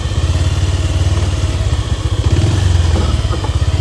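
Motorcycle engine labouring steadily up a steep rocky hill road to a mountaintop tribal village in Salem district, a loud close chugging throb with rhythmic pulses that swell slightly near the end.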